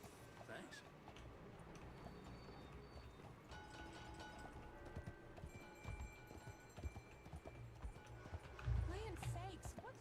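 Horse hooves clip-clopping in a video game, soft and fairly distant under busy ambient game sound, townspeople chatter and music, with a louder thump near the end.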